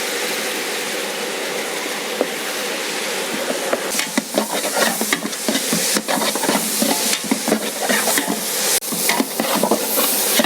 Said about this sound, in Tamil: இப்போ இந்த ஆனியனோட நம்ம லைட்டாக உப்பு போட்டு வதக்கிக்கலாம்.